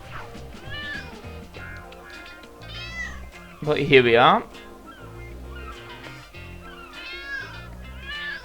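Cats meow in the Lego City Undercover video game: one loud, drawn-out meow stands out midway, with fainter meows around it. Someone talks over the game music.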